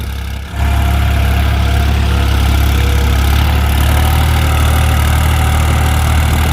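A Farmtrac 45 or New Holland 3630 tractor engine driving an 8 ft Param rotavator drones loud and close. After a brief dip at the start it settles into a steady, heavy full-throttle roar.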